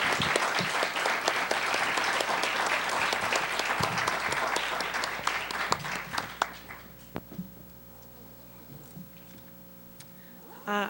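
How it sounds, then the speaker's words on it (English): Audience applause at a school board candidates night fills most of the stretch, dense and steady, then thins to scattered claps and quiet room noise near the end. "I think the candidates deserve a round of applause."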